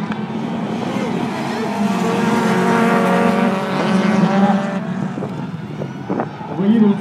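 Race car engine revving and accelerating at a French motorsport event, a loud sustained roar with shifting pitch and a brief engine surge near the end, with a commentator talking over it.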